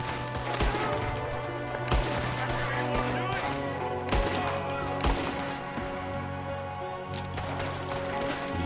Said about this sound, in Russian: Йо, вот это стрельба